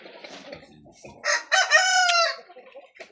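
Large farm chickens, including roosters, cluck quietly before a rooster crows loudly and close by in one long call, followed by more scattered clucking.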